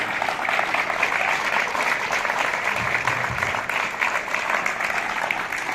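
A crowd claps steadily in sustained, dense applause at a tribute in a courtyard, staying at an even level throughout.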